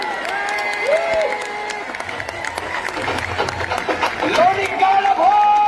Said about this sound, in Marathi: टाळ्या करा टाळ्या।